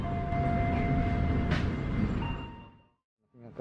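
A train at Cikampek station rumbles and clatters steadily with a faint tonal whine, close and loud, then fades to near silence before a short burst of noise returns at the end.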